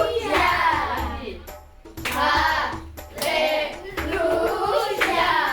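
Children clapping their hands in unison in a classroom during a clap routine, bursts of claps mixed with loud group chanting voices in a steady repeating rhythm.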